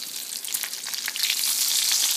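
Bacon frying in a pan, a close, bright continuous sizzle that swells louder partway through, with no talking.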